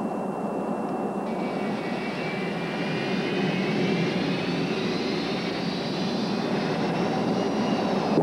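Inside an airliner cabin at a cruising altitude of 31,000 feet, the jet engines give a constant broad, even roar with a faint whine, steady and unbroken throughout.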